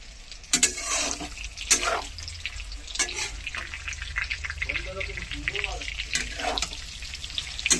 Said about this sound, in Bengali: পকোড়া বানিয়ে দিচ্ছি